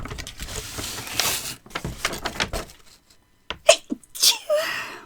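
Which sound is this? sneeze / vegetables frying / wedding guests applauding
sneeze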